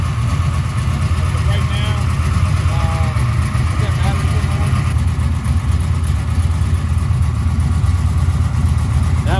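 A 1996 LT1 V8 fitted with a Holley Terminator X runs at steady idle on an engine test stand, a continuous low rumble heard close up for the whole stretch, with people talking over it.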